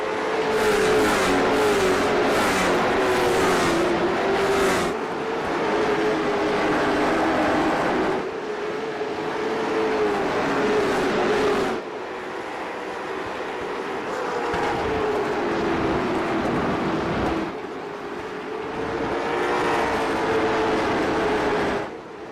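A field of race cars at the Roval roars to the green flag through the front stretch chicane, their engines surging loud and continuous as the cars accelerate, with the pitch rising and falling between shifts.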